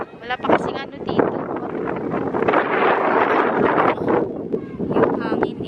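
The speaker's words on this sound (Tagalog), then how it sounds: "Yung hangin ramdam na ramdam mo talaga." Strong wind roars and buffets the microphone outdoors in a community park in Canada, gusting louder through the middle, with a person speaking underneath.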